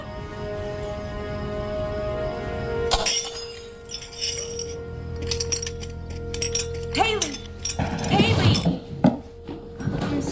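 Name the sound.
drinking glass knocked over and breaking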